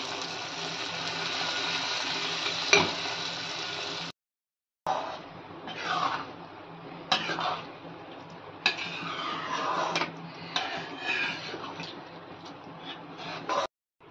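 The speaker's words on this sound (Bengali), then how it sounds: "এখানে আমি এই বুটগুলো সিদ্ধ হয়েছে এইগুলো দিয়ে দিচ্ছি।" Boiled chickpeas are stirred into a ghugni curry in a pan, giving a steady sizzling hiss with scraping and clinking from the spoon. A brief silent gap cuts in partway through, and nobody speaks.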